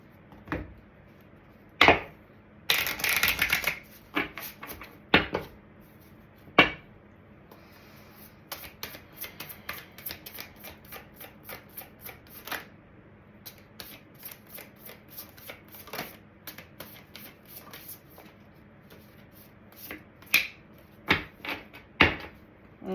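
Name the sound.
shuffling tarot cards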